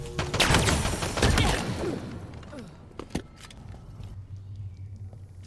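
A stalker rifle fires in a video game, with a loud burst of shots early on followed by sparser single cracks and fading echoes over a quieter background.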